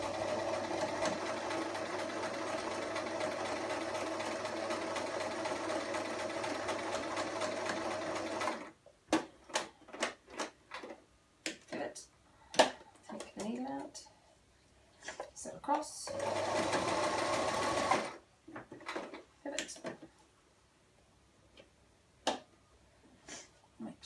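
A hand-crank sewing machine stitches a plush toy body, a steady whirring run that stops, then gives way to clicks, handling noises and brief cranked bursts, with a second sustained run later. Someone speaks between the stitching.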